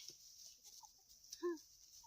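A chicken eating fish outdoors gives a few soft, brief clucks, with one clearer cluck near the end, faint against a quiet rural background.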